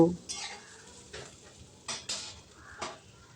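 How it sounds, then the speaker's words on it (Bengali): Boiled potatoes fry on a high flame in a pan for neem-leaf aloo bhaja. A soft sizzle sits under four distinct spatula scrapes and stirs spaced about a second apart, close by and with no speech. "এবার আলুগুলোকে লাল লাল করে ভেজে নেব"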